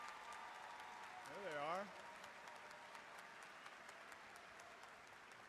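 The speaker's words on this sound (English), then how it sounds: "let's give them a round of applause" Audience applause fills a university commencement hall (SIUC spring commencement) as 4.0 honor students are recognized, a steady wash of clapping running throughout while a voice speaks briefly over it.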